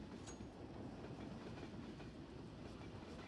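A train rolls along in the co-op map Rising in CS:GO, a faint, steady low rumble with soft rhythmic clatter from the wheels and no voices.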